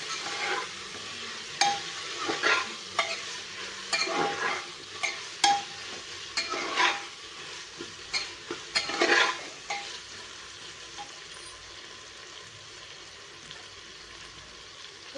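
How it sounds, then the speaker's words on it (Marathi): Mixed vegetables are stir-fried in masala for a vegetable khichdi, a constant close sizzle broken by repeated spoon scrapes and stirring knocks against the pan, then quieter frying toward the end. "थोडंसं आपल्याला या मसाल्यामध्ये भाज्या आपल्या परतून घ्यायच्या आहेत"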